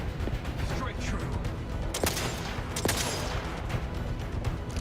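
Sniper fire from the video game The Outer Worlds 2 cracks out in sharp, scattered shots over a continuous noisy battle backdrop, a few reports standing out loudly.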